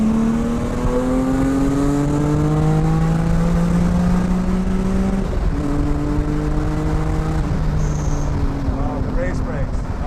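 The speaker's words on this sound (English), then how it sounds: "So now we're in the E46 M3. It is pretty damn loud, as you can hear." A BMW E46 M3 with a catless header exhaust and track modifications drones loudly from inside the cabin while driving, its engine note climbing steadily through the revs, dropping sharply at a gear change, then rising again.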